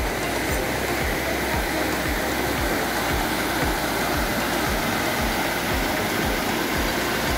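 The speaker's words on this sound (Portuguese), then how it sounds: "Avistando essa cachoeira lá longe, eu avistei uma outra cachoeira." A distant waterfall in Pedro Lessa, Minas Gerais, pours in a steady, dense rush of water that fills the whole clip without pause, with a low rumble underneath.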